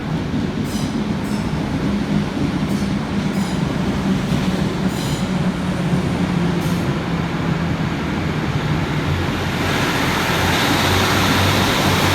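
Northern passenger trains arriving and departing at Manchester Victoria station during rush hour: a continuous loud rumble of rolling stock with engine drone, squealing wheels and periodic rail clicks, steady throughout with no talking.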